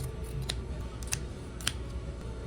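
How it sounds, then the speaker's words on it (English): Scissors snipping through fabric close to a sewn stitch line while making a makeup bag, a few crisp, close snips spaced across a quiet room background. "we're gonna take our scissors and we're gonna cut very close to our stitch line to cut off those"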